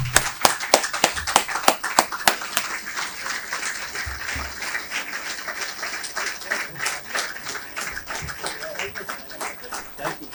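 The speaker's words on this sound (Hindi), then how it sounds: "अब मैं सब लोगों से जोरदार तालियों के साथ आज के स्पीकर श्री हरीश देसाई।" An audience at a business seminar on growing business under a new tax environment breaks into dense, fairly loud applause to welcome the day's speaker. It is strongest over the first few seconds, then continues more unevenly with voices mixed in.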